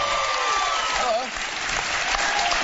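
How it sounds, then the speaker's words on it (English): A studio audience on a daytime talk show bursts into dense, loud applause that fills the whole stretch, with a person speaking faintly beneath it. "Please hold your applause until the end."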